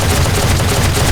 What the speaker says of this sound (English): That mean-looking robot is about to shoot you.